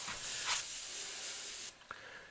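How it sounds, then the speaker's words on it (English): A steady hiss of airbrush spray through a stencil runs close-up for under two seconds, then cuts off, leaving a brief soft puff and quiet. "then I'll put the stencil there and then spray through it"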